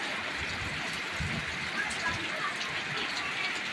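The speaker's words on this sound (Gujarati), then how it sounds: "હજુ વરસાદ ચાલુ છે" Steady rain pours over an open farm area in a continuous dense hiss with heavy patter on surfaces, loud and unbroken for the whole stretch.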